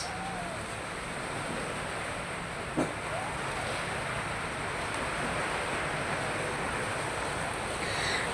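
Surf washes steadily onto a seaside shore below a mountain, a constant broad roar with wind buffeting the microphone and one brief knock partway through.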